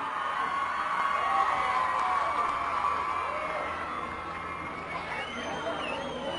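A waiting parade crowd cheers and whoops in a steady, far-off roar that lasts throughout, with a loose mix of voices and shouts.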